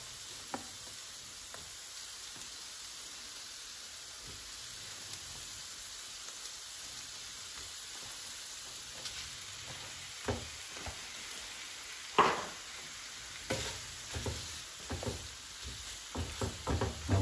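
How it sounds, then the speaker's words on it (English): Ground beef browning with onions in a pan gives a faint, steady sizzle, with occasional utensil scrapes and clacks growing more frequent near the end. "want to brown our beef, mix it in with the onions."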